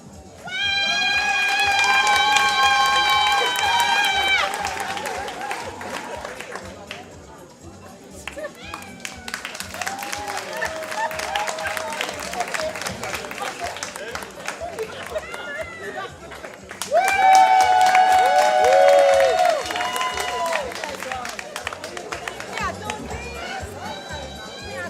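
At a fundraising evening, a crowd claps and cheers for contestants in loud bursts, with shouts and whoops rising over the applause, separated by a quieter stretch of chatter and scattered clapping.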